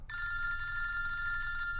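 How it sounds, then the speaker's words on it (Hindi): A telephone bell rings in one steady electronic trill that keeps going for nearly two seconds, clear and moderately loud over a faint low hum. "फोन उठा, मेरा फोन उठा।"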